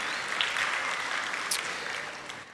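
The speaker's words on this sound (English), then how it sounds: "We'll just give them a round of applause anyway." Audience at a high school band Christmas concert gives faculty a round of applause, steady dense clapping throughout with a few sharper claps near the middle, no voices on top.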